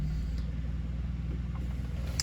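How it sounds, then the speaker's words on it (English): Steady low idle rumble from a 2019 BMW 420i M Sport Gran Coupe engine just after start-up, close and even throughout, with no talking. "I'll also start the car up"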